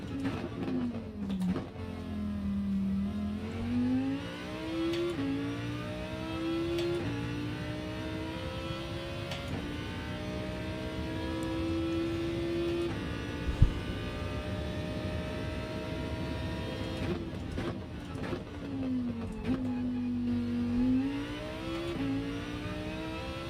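Race car engine in a racing video game at the Red Bull Ring, revving hard with rising and falling pitch sweeps as gears change, a steady loud drone throughout with a sharp click midway.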